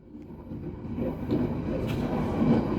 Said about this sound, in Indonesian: kereta Ambarawa meninggalkan stasiun Cepu.